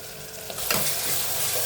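Tomato added to fried onion with salt in a pan for vegetable kurma, stirred: a steady hiss of frying that swells as a stir scrapes through, close and moderately loud.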